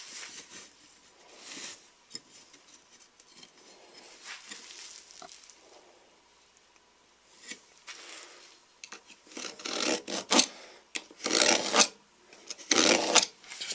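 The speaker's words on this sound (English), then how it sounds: "So you just scribe a mark in there with a cut, with a utility knife or whatever, along that line right there" A utility knife scribes a mark across juniper (larch) wood, heard as a run of dry rasping scrapes that grow louder and more vigorous toward the end, close up with no talk.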